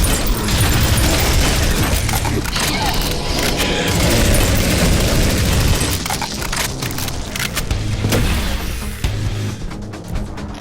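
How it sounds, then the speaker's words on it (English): Dual-wielded guns firing in the retro-style shooter Prodeus, a dense, loud, continuous stream of shots and booms with clattering mechanisms, layered over game music and effects throughout. "Let's try this dual wield, because it's a"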